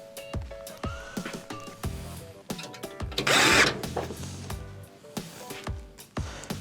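Screwdriving into a Whirlpool washer during water inlet valve repair, with close clicks and clanks of handling, then a short burst of power-driver whir in the middle.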